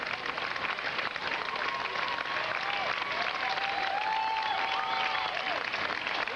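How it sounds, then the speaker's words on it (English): A distant crowd cheers and claps steadily outdoors as St. Jude charity runners approach the finish, with a continuous wash of applause and a few whistles over the whole stretch. "Maybe you can hear a little bit of the crowd now as they get ready to round the corner and come on in here."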